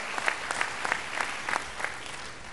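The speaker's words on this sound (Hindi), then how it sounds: "तो उनके लिए भी एक बार जोरदार ताली है।" Audience applause at a gathering on Swadeshi economic freedom, with steady, fairly soft clapping spread through a crowd and small rhythmic peaks, heard alone without talk.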